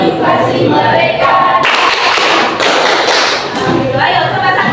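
A classroom of students performs the rhythmic Tepuk 3G clap together, loud thumping claps in patterned bursts mixed with chanting voices.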